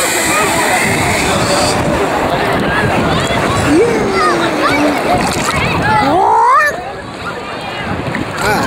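People splash and wade in ice-cold, stormy ocean water at Ocean City, New Jersey, with steady loud surf and splashing throughout while voices shout and exclaim over it.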